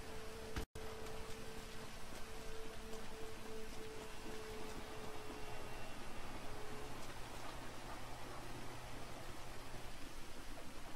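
Rain falls in the video game Grand Theft Auto V at Vespucci Beach as a soft, continuous hiss of drops, quiet and unbroken for the whole stretch with no one talking.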